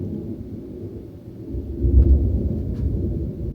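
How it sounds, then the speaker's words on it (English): Deep thunder rumbles outside during a brewing thunderstorm, a low rolling growl that swells midway and lingers, heard indoors and fairly close with no talking. "y'all hear the thunder?"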